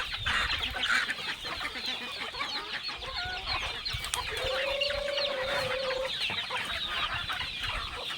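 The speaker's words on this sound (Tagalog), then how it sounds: "Marami pang sisiw" Chickens cluck continuously close by, with soft peeping of chicks and a drawn-out hen call amid the busy barnyard chatter, with goats kept nearby.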